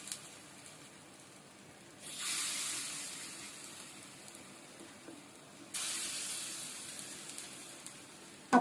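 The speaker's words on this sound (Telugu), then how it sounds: "ఒక్కొక్క గుంతలో తగినంత పిండి వేసుకోవాలండి" Gunta ponganalu batter hisses and sizzles as it is poured into the hot pit pan, with two loud bursts of frying that each swell and then settle into a steady quiet sizzle.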